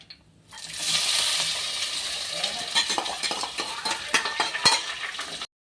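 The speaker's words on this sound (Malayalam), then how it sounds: "ചെറിയ ഉള്ളി ഇത് നമുക്ക് എണ്ണയിലോട്ട് ഇടാം" Small onions hit hot oil alongside curry leaves, tomato, green chilli and ginger, bursting into a loud steady sizzle after a quiet start, with scattered clinks and scrapes of a spoon stirring in the pan, no voices.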